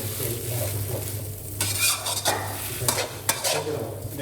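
Pad See Ew rice noodles stir-fry over low heat in a pan with a low, steady sizzle, broken by several sharp scrape-and-turn strokes of a utensil against the metal, and no voices.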